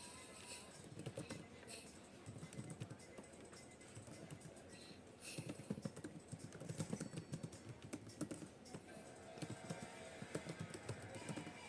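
Numbers being keyed into a Microsoft Excel spreadsheet on a computer keyboard make quiet, steady bursts of clicking that run throughout, with faint talk in the background.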